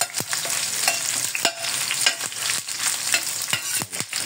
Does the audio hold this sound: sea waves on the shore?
no